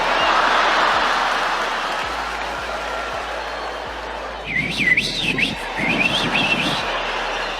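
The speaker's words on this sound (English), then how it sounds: "they start whistling" Audience members at a stand-up comedy show whistle loudly in wavering, birdlike calls over applause and crowd noise, several overlapping whistles rising in the second half.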